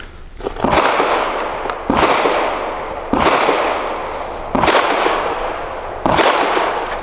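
A Canik METE MC9 pistol fires five spaced shots on a shooting range, each a loud sharp crack with a long ringing decay, about one every 1.3 seconds.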